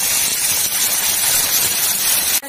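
A dried red chili dropped into hot oil in a pan, sizzling and hissing steadily and loudly for over two seconds before a brief cutoff at the end.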